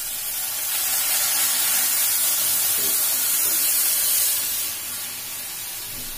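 Dal poured a little at a time into a hot pan in a home kitchen, a loud continuous sizzle and steamy hiss that swells, then eases toward the end, with no talking.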